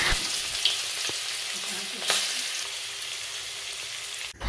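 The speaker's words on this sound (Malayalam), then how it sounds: "ഇനി ഇതാ എണ്ണ ചൂടായിട്ടുണ്ട് ഇത് നമ്മളൊന്ന് വറുത്തെടുക്കുവാണേ" Continuous crackling sizzle of prawns frying in hot oil, close and steady, with a few brief pops and no talking.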